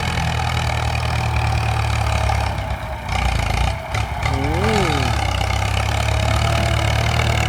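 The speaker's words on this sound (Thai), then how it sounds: "รถไถฟอร์ดคุณปู 6660 ครับ 6660เครื่อง6สูบครับ" A Ford 6660 six-cylinder tractor engine idling with a steady low rumble, briefly dipping twice, with a faint rising and falling whine over it.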